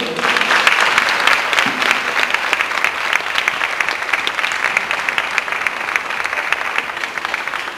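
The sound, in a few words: audience applause for pageant contestants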